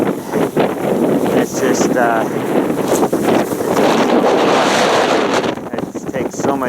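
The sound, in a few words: strong wind with blowing snow at the South Pole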